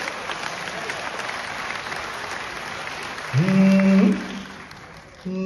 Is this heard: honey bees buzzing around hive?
no